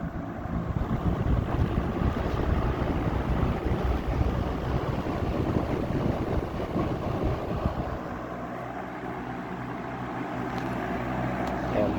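A Lakewood box fan bought from Kmart runs at medium speed, giving a steady, loud, close broadband whoosh of moving air with a faint low rumble, continuous throughout.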